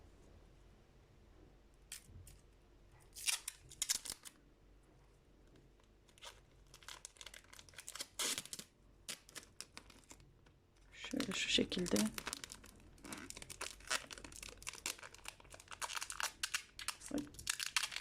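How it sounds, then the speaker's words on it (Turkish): Adhesive tape is ripped off a roll and pressed down, crackling and crinkling in bursts up close, with someone speaking briefly. "şimdi biraz ses olacak ama bantla yapıştıracağım"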